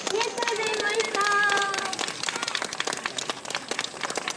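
An audience applauding at an outdoor community market concert in 2017, a brisk, continuous patter of clapping close by, with a voice speaking over the start.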